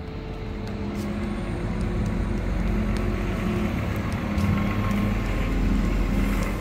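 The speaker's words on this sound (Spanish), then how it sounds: "Viene un autobús y va a hacer un montón de ruido." A bus approaches and passes along a street, a steady broadband engine and road rumble that swells and stays loud through the passage, with no voices.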